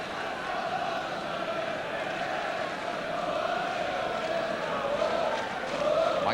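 Football crowd at Tottenham for Spurs v Everton in 1976–77, a steady broad roar of cheering fans throughout, swelling slightly toward the end, with a commentator talking over it.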